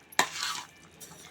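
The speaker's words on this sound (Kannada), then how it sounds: "ಸೊ ಸ್ವಲ್ಪನೇ ನಾವು ನಿಧಾನಕ್ಕೆ ಮಿಕ್ಸ್ ಮಾಡ್ಕೋಬೇಕಾಗತ್ತೆ." Roasted vermicelli stirred into a pot of boiled vegetables: a sudden scraping rustle of spoon against pot that fades over half a second, then a lighter second scrape, close and fairly quiet.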